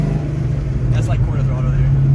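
A 408W stroker V8 in an SN95 Ford Mustang cruising at quarter throttle, a steady low engine drone heard from inside the car, with people talking over it.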